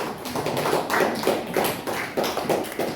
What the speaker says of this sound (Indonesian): Tepuk tangan untuk Ratu semuanya.